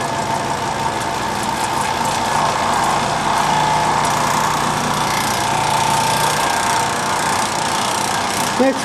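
A worn-out vintage Lakewood T8 double window fan runs with a constant droning motor hum and a fine, persistent rattle, loud and close, without pause.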